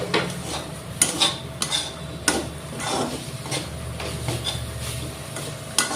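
Fish bhorta ingredients, fried fish with seasonings, are scraped and stirred in a pan, with a metal utensil clinking and tapping against the pan in an irregular rhythm over a low sizzle, close and fairly loud.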